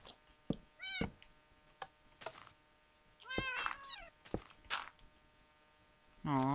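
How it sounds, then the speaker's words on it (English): A cat in the Minecraft video game lets out several pained meows in quick succession, clear and close, amid sparse clicks and other game sounds. "Oh, the cat was in pain."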